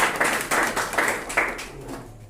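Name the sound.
clapping in a classroom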